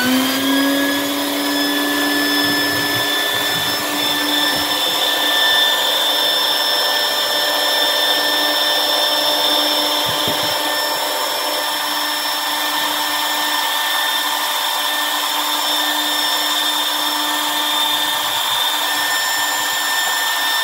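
A vacuum cleaner runs steadily while cleaning a pet bunny's cage, giving a continuous whining motor drone with a high tonal whistle that holds unbroken throughout, with no talk.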